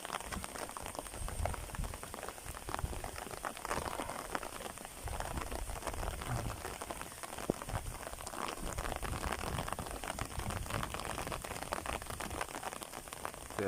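Steady rain falls around a homestay among rice fields at Phu Pha Man in Khon Kaen, Thailand, a dense, even hiss of drops drumming on surfaces that continues without a break.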